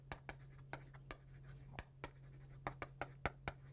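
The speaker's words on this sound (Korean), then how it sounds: "거기다 써볼게요" Chalk or marker writing on a board during a Korean civil-law lecture, a run of short, sharp taps and scratches in an irregular rhythm, close and fairly quiet over a steady low hum.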